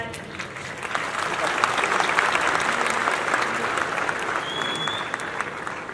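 Sustained audience applause fills a hall during a conversation event with a young professor, a dense steady wash of many hands clapping at even loudness throughout, with a faint voice briefly audible near the end.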